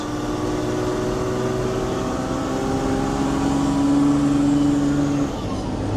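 A Land Rover with an OM606 diesel engine and automatic gearbox driving, a steady droning engine hum whose tone rises with revs, then drops as it shifts into the next gear near the end.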